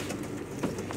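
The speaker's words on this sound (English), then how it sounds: "So Papa's trying to get another pigeon" Pigeons in a loft during ring banding, a low cooing murmur running steadily through a noisy, busy background.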